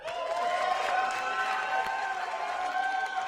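Comedy club audience at a stand-up special responding with a moderate wash of clapping, cheering and whoops, steady and fairly close for a few seconds.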